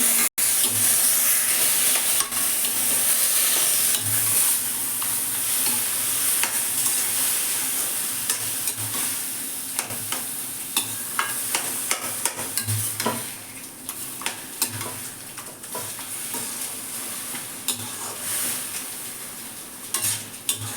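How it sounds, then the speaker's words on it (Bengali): Taro leaves frying with a hilsa fish head and cumin powder in a pan, a loud continuous hissing sizzle with repeated scraping stirs and clatters of the spatula across about twenty seconds. "এবার দিলাম কচুর শাক নাড়তে হবে"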